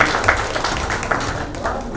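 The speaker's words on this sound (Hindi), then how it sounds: "जोरदार ताली काजल जी के लिए।" An audience at a Bhojpuri OTT platform launch event breaks into scattered, lively clapping, fairly close and steady for a couple of seconds, mixed with crowd noise.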